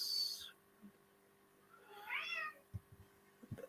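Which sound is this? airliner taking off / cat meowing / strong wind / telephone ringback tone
cat meowing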